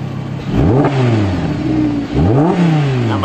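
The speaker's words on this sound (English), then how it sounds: "Little rev." A Lamborghini engine revs twice in quick succession, each blip sweeping sharply up in pitch and then falling back to a loud, close idle.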